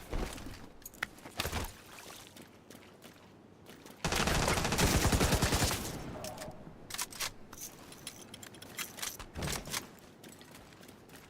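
Gunfire in the video game The Division 2, scattered single shots and short bursts with a loud sustained volley of rapid automatic fire in the middle, then more intermittent cracks.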